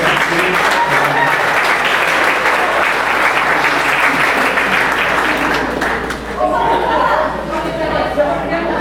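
Meeting audience giving a round of applause for an executive team member, sustained crowd clapping with chatter mixed in, dipping briefly then swelling again before trailing off.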